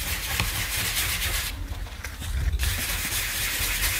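Steady close rubbing as silk microfine glitter is polished onto a card surface, a continuous soft scrubbing texture with a brief lighter patch midway.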